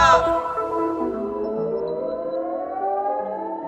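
Air raid sirens wailing during wartime, a loud, close, sustained civil defense tone that slowly falls in pitch across the whole stretch.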